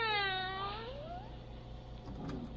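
A man imitates a cat with a single long, drawn-out meow that rises and falls, followed by quieter background noise.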